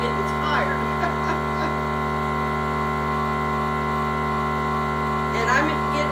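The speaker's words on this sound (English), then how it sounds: "Sucking air out. There's a lot of vacuum sealing today." A small home vacuum sealer pumps air out of a food storage bag, its motor giving a steady, even humming drone that runs unbroken from start to finish, with a couple of brief, faint voice sounds over it.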